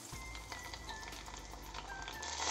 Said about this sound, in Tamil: இப்போ வெங்காயம் ஓரளவுக்கு பொன்னிறமாக பொரிஞ்சு வந்ததுக்கப்புறம்